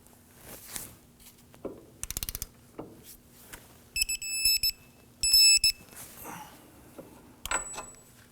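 A ratchet tightens a fastener on a 2008-2011 Ford Focus front knuckle to 199 foot-pounds, giving quiet, spaced clicking bursts and buzzing pawl rattles between softer handling clatter.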